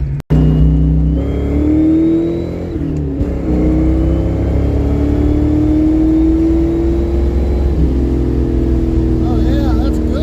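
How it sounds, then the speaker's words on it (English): A Ford Mustang V8 with a Duraspark 2 distributor revs hard at wide open throttle, its engine note rising steadily through several pulls, loud and close and continuous throughout. "Some wide open throttle pulls."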